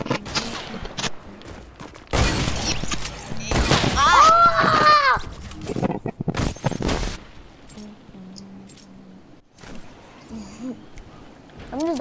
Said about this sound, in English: I'm just doing four shots